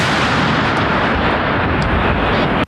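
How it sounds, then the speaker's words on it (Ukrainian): Artillery cannon firing a shot, heard as a loud, sustained roar of blast and rumble filling the whole stretch with no talk over it. "Гармата! Постріл!"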